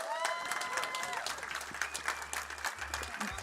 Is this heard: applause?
yes